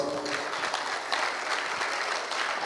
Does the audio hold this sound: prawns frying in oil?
no